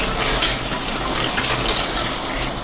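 Water gushes steadily from a tap into a pot as it fills for cooking sambal, a loud, continuous broadband rush that carries on with no break and no voices.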